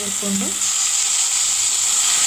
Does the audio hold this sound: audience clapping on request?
no